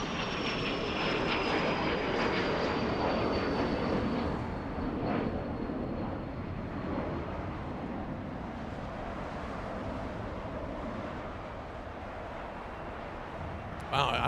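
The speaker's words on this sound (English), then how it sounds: "let's go for the Taiwanese 777" An EVA Air Boeing 777 takes off at Los Angeles, its jet engines a loud, broad roar with a high whine that slowly falls in pitch and fades as the plane climbs away, heard alone without talk.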